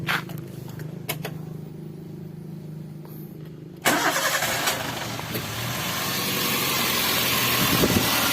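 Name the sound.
car engine starting, Toyota Avanza-type car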